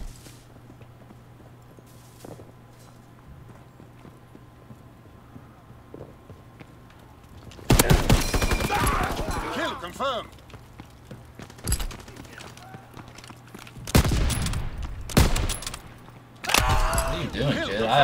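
Kar98 rifle gunfire in Call of Duty WWII: after a quiet stretch, several loud, sharp shot bursts ring out at uneven intervals, each trailing into a short noisy tail.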